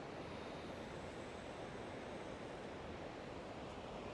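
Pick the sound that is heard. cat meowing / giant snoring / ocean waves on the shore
ocean waves on the shore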